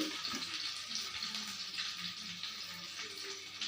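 Fish frying in a pan, crisping in hot oil, makes a continuous airy hiss and sizzle that stays fairly even throughout with no voices over it.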